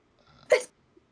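A single short, sharp sneeze bursts out once, close by, with a soft intake of breath just before it.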